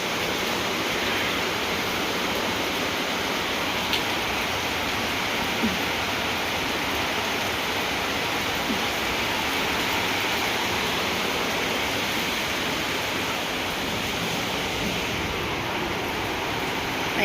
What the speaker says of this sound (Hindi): इधर हो रहा है झमाझम बारिश, झमाझम।